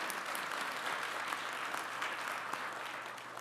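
An audience at a government public forum on the semiconductor industry claps after officials answer, a dense, sustained applause that fades slightly toward the end.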